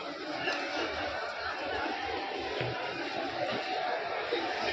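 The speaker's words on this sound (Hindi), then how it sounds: "बहुत काफ़ी भीड़ है। और कैसे कैसे लोग भाग रहे हैं।" A large crowd of pilgrims fills Deshnok railway station, producing a steady, dense babble of many voices with scattered shouts. Nearer speech comes through over the constant hubbub.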